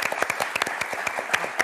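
Studio audience applauding on a French game show, dense rapid clapping throughout, close and lively, with a voice faintly beneath it.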